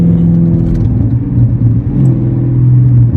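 A Dodge Challenger SRT 392 Scat Pack Hemi V8 engine rumbles steadily at close range, a deep sustained drone that swells slightly as it revs.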